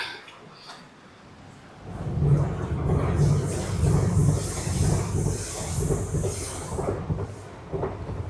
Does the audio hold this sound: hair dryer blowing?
no